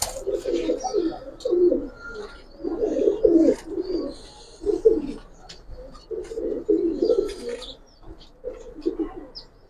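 Giribaz pigeons, including a female carrying an egg, cooing in repeated low throaty bursts close by, with faint chirps and light rustling in between.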